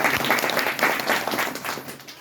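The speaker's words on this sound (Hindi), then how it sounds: "एक बार पहले जोरदार ताली से।" Loud, dense applause from a seated audience at an RCM business talk in India, a short burst of many hands clapping close by that tapers off slightly toward the end.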